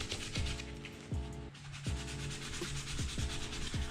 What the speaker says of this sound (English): We're just gonna sand it off so that the contact cement sticks a little better.